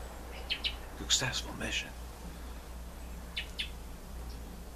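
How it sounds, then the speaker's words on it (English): Birds give a few short, faint chirps and tweets in the evening as they settle to roost, in two brief bursts over a low steady hum, with a voice speaking. "All the birds are gliding into their resting places for the evening."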